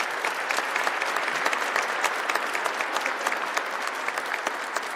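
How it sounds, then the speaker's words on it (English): Sustained applause from a ceremony audience at a Veterans Day event in the Wisconsin State Capitol, dense steady clapping with no voices, filling the whole stretch. "let's give a round of applause to these wonderful performers for being here this Monday morning."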